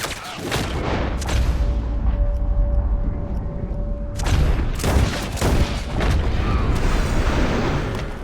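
Repeated loud gunshots and booming blasts from a barn in Red Dead Redemption 2 crack out in irregular bursts, layered over a constant rumbling background of combat noise.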